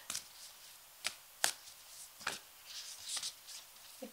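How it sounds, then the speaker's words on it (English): Tarot cards are shuffled by hand in a quiet room, with several short, crisp riffling and tapping bursts separated by brief pauses. "I'm going to keep shuffling."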